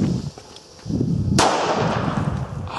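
A Booster D Panda firework goes off at a New Year's Eve display with one sharp, loud bang that is followed by a long crackling, rumbling tail, with noise of other fireworks around it.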